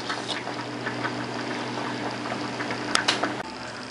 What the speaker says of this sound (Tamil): இது எல்லாத்தையும் மிக்ஸியில் போட்டு இப்போ கொஞ்சமாக தண்ணி தெளித்து அரைச்சிக்கணும்